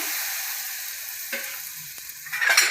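Jaggery stirred into hot oil in a kadai while making rajgira chikki, giving a steady close frying sizzle with scraping stirring strokes that grow louder toward the end.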